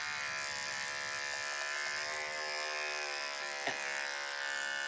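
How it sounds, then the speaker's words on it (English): A regular electric trimmer hums steadily as it lightly passes over a miniature bull terrier's whiskers during show grooming, a continuous close buzz with slight pitch shifts and a brief bump near the end. "So this is just a regular trimmer."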